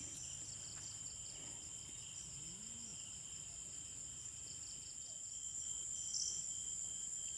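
Steady high-pitched cricket chirring runs throughout, a constant thin drone with no pauses, faint and close, with no voices.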